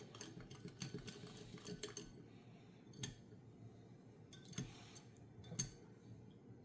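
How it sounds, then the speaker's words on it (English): A spoon stirring drink powder into water in a cup, soft clinking taps at irregular intervals, quiet and close with faint background hiss and no talking. "Give that a bit of a stir."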